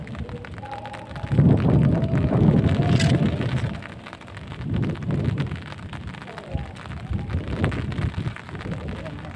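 Steady rainfall patters on a surface, rising to a heavier rush for a few seconds, with faint voices mixed in.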